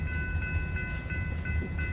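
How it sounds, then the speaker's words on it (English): DeQueen and Eastern railroad GP40-2 diesel locomotive idling in a yard near Valiant, Oklahoma, a steady low engine rumble with faint rail squeal tones, no talk. "they're gonna back the train up all the way down to that chip yard way down yonder."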